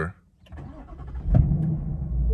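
A 2021 Ford Mustang Mach 1 engine cranks and catches in quiet exhaust mode, then idles with a subdued, low rumble; a brief mechanical whir comes before the start.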